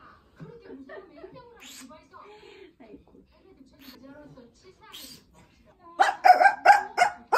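A person imitates a dog with a quick run of loud, close yapping barks near the end, after a stretch of quiet talking and light laughter indoors during a Lunar New Year visit.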